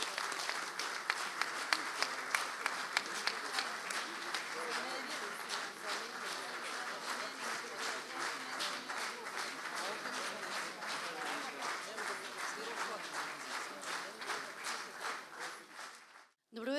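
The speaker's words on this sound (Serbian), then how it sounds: "velikim aplauzom, molim vas, pozdravite i Saru i njenu mamu" Sustained applause from the audience at a charity festival concert, a dense wash of clapping that holds steady before cutting off near the end.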